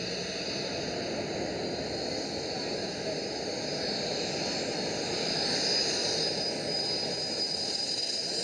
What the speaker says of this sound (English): There goes KLM 737.